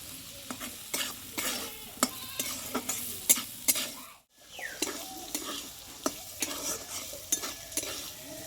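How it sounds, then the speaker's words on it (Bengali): A spoon stirs a soft potato filling in a hot pan for a Bengali tiffin snack. Quiet, repeated scraping strokes come over a low sizzle, with a brief pause midway. "এইভাবে কিন্তু আলুর পুরটা নাড়াচাড়া করতে করতে"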